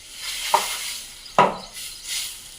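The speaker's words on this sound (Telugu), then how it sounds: "దోశ పోసుకుంటున్నాను అనమాట." Dosa batter poured onto a very hot griddle pan sizzles in two short bursts, each with a light clink, over a steady background hiss. No one speaks.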